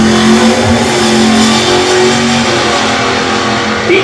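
A late model Camaro at a drag strip, heard as a loud, steady, broadband engine roar that holds for several seconds at close range, with no talk over it.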